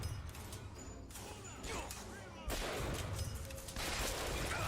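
Gunfire in the video game Bioshock Infinite crackles in a few sharp bursts and scattered shots, fairly quiet, with a louder stretch in the second half.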